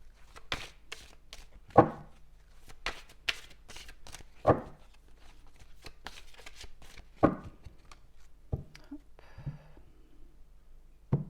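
Tarot cards are shuffled by hand in a quiet room, with a steady series of soft riffles, slaps and papery taps that come in uneven clusters for several seconds.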